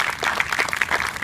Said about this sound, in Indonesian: Beri tepukan untuk diri anda.